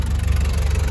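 The engine of a 1995 Toyota HiAce idles with the engine cover open, making a steady, loud, low rumble throughout, with no talk.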